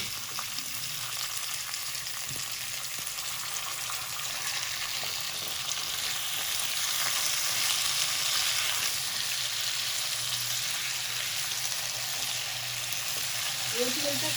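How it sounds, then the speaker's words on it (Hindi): Potatoes frying with spices in a pan for about a minute, giving a steady, close broadband sizzle that holds even throughout, with a faint stir and no talk. "आलू को 1 मिनट तक फ्राई करेंगे मसाले के साथ।"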